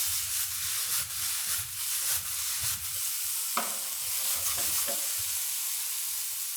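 Fiddleheads heating in a hot pan give a soft, steady sizzle with faint stirring and scraping, one brief clink midway, quiet and continuous with no talk.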